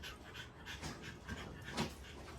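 A bully breed dog pants rapidly and steadily, a soft rhythmic series of quick breaths heard close but faint.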